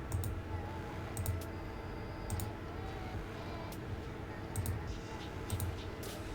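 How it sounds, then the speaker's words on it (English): Quiet computer keyboard typing, a soft irregular patter of clicks in small bursts with short pauses, heard close and alone without talk. "I see that you were typing instead of talking"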